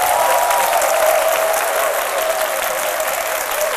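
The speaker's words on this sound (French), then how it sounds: "J'ai nommé Kouléon Monet, que je vous demande d'applaudir" Dense, steady applause from a studio audience on an Ivorian midday television talk show, welcoming a guest, a continuous loud wash of clapping with no talk over it.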